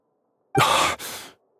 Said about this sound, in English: Her breathing is weak